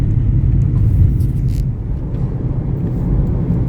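Steady low roar of night traffic on National Highway 48 near Udaipur, heavy trucks and a few cars rumbling close by, loud and unbroken with no talk.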